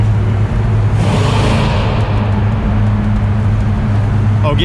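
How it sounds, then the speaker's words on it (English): Deep, loud engine rumble of a car at a classic car and hot rod festival drive, booming and reverberating inside a waterfront tunnel, with a brief rush of passing traffic early on. "This car's so fucking loud in the tunnel."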